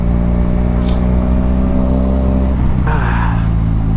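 Motorcycle engine droning steadily while riding along Bongabon Road toward Baler, a loud sustained harmonic hum that shifts pitch as the rider changes speed, with wind noise mixed in.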